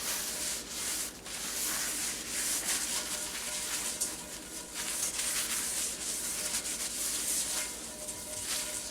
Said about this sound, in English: go ahead and kind of grease up my pan a little bit